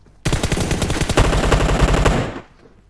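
A rapid automatic burst of gunfire in the video game PUBG Mobile on the Vikendi map, loud and close, lasting about two seconds before cutting off, with no talking.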